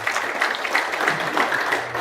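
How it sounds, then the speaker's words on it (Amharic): Dense, steady audience applause fills a church gathering where an Ethiopian Orthodox bishop is speaking, a continuous crackle of many hands with no pauses and no clear voices over it. "ጭብጨባ የለም። ጭብጨባ ማደናገሪያ ነው።"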